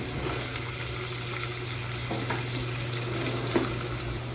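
Onion goes into oil where garlic is browning for a pomfret curry, giving a continuous steady sizzle with occasional scrapes and clinks of stirring, close and fairly loud, with no voices.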